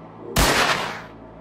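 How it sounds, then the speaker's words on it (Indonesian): A single loud gunshot booms in the video game Let's Find Larry, a sharp blast with a short fading tail. "Waldi di sisi lain menuruti perintah si pria bertopi merah dengan mulai membidik dan menembak Larry."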